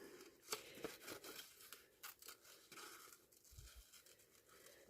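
Quiet, close snipping and crinkling of scissors cutting sheet music paper, irregular small cuts and rustles in an otherwise hushed room.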